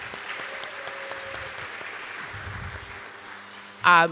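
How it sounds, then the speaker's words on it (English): Applause from a seated audience at a talk, a modest scattered clapping sustained throughout, followed near the end by a short loud burst of voice close to the microphone. "I can't stop without giving you a round of applause."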